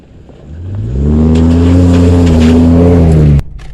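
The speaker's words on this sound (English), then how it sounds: "I like driving through puddles." A truck engine revving hard while driving through a puddle, building from quiet into a loud, sustained close roar that cuts off sharply near the end.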